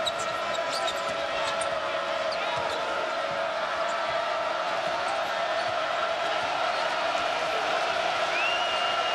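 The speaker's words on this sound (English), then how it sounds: "Crowd really into it." Arena crowd cheering at a Pitt Panthers at Cincinnati Bearcats college basketball game, a loud continuous roar with whoops and whistles, a play-by-play voice talking over it.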